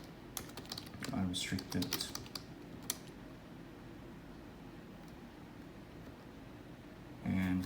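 Fingers tap a computer keyboard entering a command, with a quick burst of clicking keystrokes, then a quiet pause and a final short flurry of keys, while a voice speaks briefly.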